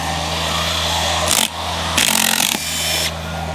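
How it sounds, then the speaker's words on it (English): Loud, steady whine of a power tool backing stainless steel Cortex screws out of a deck board, surging and dipping in pitch as the bit grabs and releases, close up with no talk. "that's how I'm removing the Cortex screws out of the deck board"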